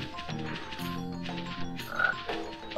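Buck-toothed frog enemy croaking in the video game Spyro, a few throaty croaks mixed with game music and effects, moderately loud with no talking.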